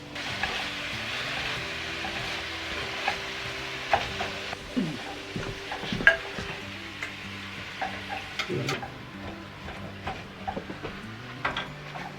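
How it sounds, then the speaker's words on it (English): Eggs scrambling and sausage cooking in a pan give a soft, low sizzle, with frequent light ticks and scrapes of a spatula stirring, fairly quiet and close, with no talking. "we'll scramble eggs and cook sausage"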